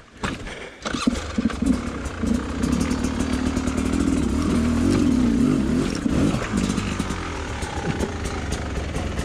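An enduro dirt bike fitted with a SmartCarb carburetor starts with a sharp pop, then its engine runs steadily in a loud, close, buzzing drone with small shifts in pitch, accompanied by faint clatter.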